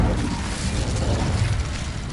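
An Incendio fire spell cast in Hogwarts Legacy on PS5 erupts as a loud, dense roaring burst of flame that holds steady and close for about two seconds.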